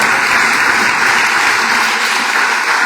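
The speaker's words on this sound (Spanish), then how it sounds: "Dele ese aplauso al Señor." A church congregation applauding loudly and steadily, a dense wash of clapping from many hands with no break.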